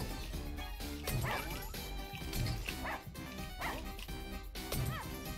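Dogs bark, yip and whimper in the video game Russian Subway Dogs, repeated short barks over busy game music and effects, with a voice talking over them.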